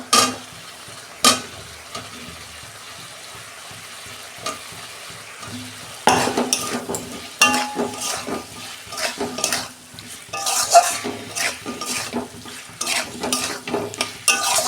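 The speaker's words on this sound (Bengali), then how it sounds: "আর 2 মিনিট আমি কষতে নেব।" Cauliflower and potatoes frying in spice paste, stirred in a pan: close, sputtering sizzle broken by repeated scraping and knocking of the spoon against the pan, busier and louder in the second half.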